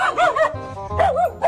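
A dog chasing a passing vehicle near a house gives a few short, loud barks and yips close by, in quick bursts separated by a brief pause.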